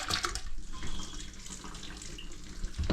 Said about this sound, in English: So if you flush it,